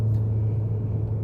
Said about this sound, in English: you can for sure hear that exhaust note